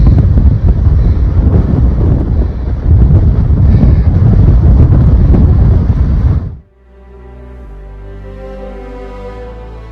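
Heavy wind above timberline on a Colorado Trail mountain pass, around 12,600 feet, buffets the microphone in a loud, rough roar that suddenly cuts out, leaving quiet background music.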